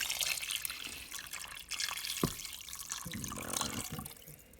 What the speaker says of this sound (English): And pour the broth all over.